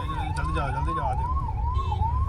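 A 108 emergency ambulance siren wails up and down in smooth repeating sweeps, loud and close, passing over the rumble of road traffic near Modhera crossroads, Mehsana, Gujarat.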